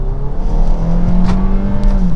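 A 2020 Hyundai Kona accelerating from about 35 km/h, heard from inside the cabin as a loud, steady engine drone that rises smoothly in pitch over a couple of seconds, with no talk.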